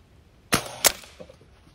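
Daisy 1101S air pistol firing SIG match pellets at a target, two sharp close snaps about a third of a second apart, followed by a faint softer tick.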